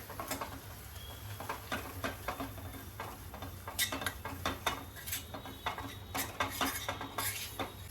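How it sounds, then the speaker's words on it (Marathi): Wheat flour stirred into warm ghee in a pan for a sweet semolina-style dish: steady metallic scraping and tapping of a spoon against the pan, quiet and continuous, no voices. "यामध्ये मी हे पीठ टाकून घेते आणि छान मिक्स करायचं आहे"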